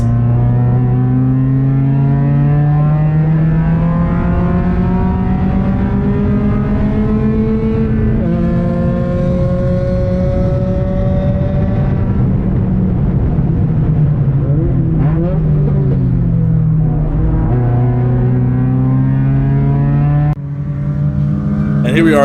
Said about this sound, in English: Little rev from the motor.